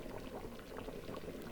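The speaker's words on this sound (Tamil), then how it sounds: "ரொம்ப நல்லா கொதிச்சு வந்துடுச்சு." Tamil-style fish curry (meen kuzhambu) simmers at a rolling boil in a pot, a soft continuous bubbling and popping, close but quiet, with no talk.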